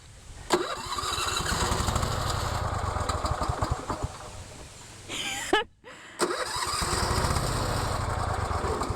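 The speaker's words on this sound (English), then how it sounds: "So now that the mower is working, Tim's going to go" A lawn mower engine running at a steady loud rattling drone, then sputtering and briefly cutting out before restarting and settling back into its even running note.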